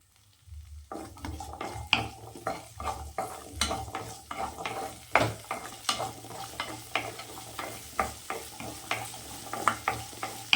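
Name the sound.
small onions sautéing in oil in a kadai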